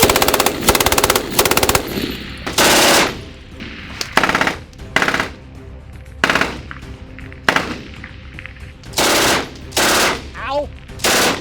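MG42 machine gun at a shooting range firing repeated loud, close bursts of rapid automatic fire, around nine bursts separated by short pauses, with faint voices in between.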